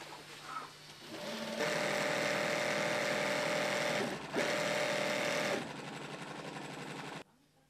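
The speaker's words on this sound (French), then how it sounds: "Les pièces de tissu sont assemblées par double surpiqûre avant d'être cousues au point zigzag." A sewing machine runs in two long bursts, zigzag-stitching fabric pieces, giving a fast, even mechanical whir with a brief pause between the runs and quieter handling noise before and after.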